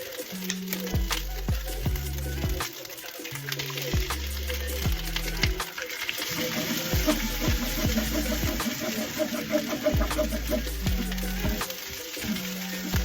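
Garlic fried rice being fried and tossed with egg and corned beef in a pan, a continuous sizzle with repeated scraping and clanking stirs close by, no speech.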